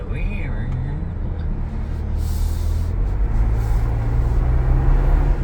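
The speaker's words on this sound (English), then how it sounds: "You can hear like the intake noise and stuff." A 2022 Ford Bronco's engine intake drones low and steady while driving, a continuous rumble with rising intake noise beneath people talking in the cabin.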